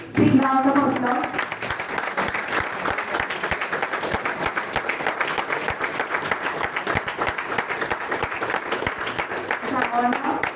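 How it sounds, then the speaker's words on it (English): An inauguration-ceremony audience at a national-level oratory contest gives a sustained round of applause, a dense even clatter of many hands lasting about ten seconds, with brief voices at the start and end. "Big round of applause."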